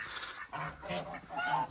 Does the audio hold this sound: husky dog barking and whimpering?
no